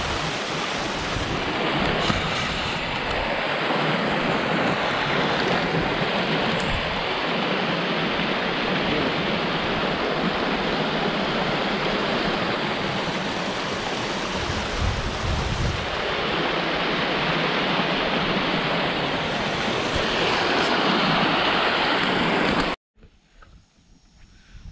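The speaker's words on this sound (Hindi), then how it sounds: "ये जो डैम से पानी जो आ रहा है ये वही पानी है जो पहले भी आपको दिखाया है।" Water pours from a dam in a loud, steady broadband roar that holds for over twenty seconds with no voices, then cuts off abruptly near the end.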